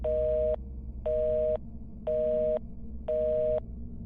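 A landline telephone receiver gives a steady disconnected-line tone in four evenly spaced bursts of about half a second each, clear and close, with a low background hum and no speech.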